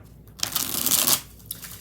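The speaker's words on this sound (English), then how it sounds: "2 more shuffles." A quick riffle of shuffled tarot cards, a brief fluttering burst up close lasting about a second, followed by a softer tap.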